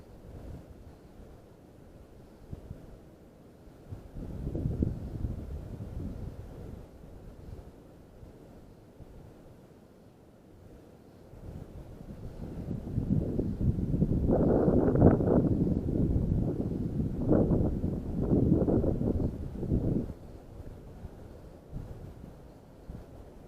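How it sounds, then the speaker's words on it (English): Wind gusts buffet an outdoor microphone beside a river during a backpacking fly-fishing trip for brook trout, rising to a loud, sustained rumble midway after gentler low buffeting at the start. "Ooh, it's kind of getting windy."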